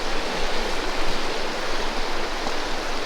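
Cold, roughly waist-deep mountain stream in Alaska rushing steadily, a dense, continuous broadband wash of flowing water close by, with no talk over it.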